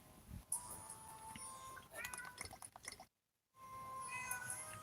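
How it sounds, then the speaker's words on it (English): A cat meows at a door in a few faint, thin cries under the quiet, with a brief gap of silence partway through. "My cat's meowing at my door."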